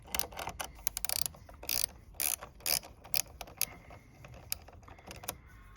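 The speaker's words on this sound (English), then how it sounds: "I've got a little ratchet one here, and loosen up the negative cable first." A small 8mm ratchet spanner clicks in quick irregular bursts, loosening the negative battery cable on an S197 Mustang, with close, crisp pawl ratchets separated by brief pauses and no talk.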